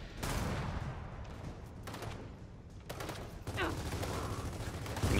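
Heavy gunfire in the Gears of War 4 campaign, rattling volleys that start abruptly, ease briefly and flare up again, mid-distance and fairly loud throughout.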